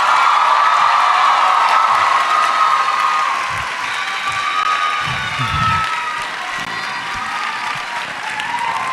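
A crowd at a university conversation event claps loudly and continuously, with a few scattered cheers and whoops rising over the steady applause.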